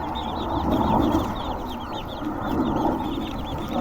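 Aseel and desi chickens on a farm cluck softly and chatter in quick, high chirps while feeding, a busy, close flock sound with no voices.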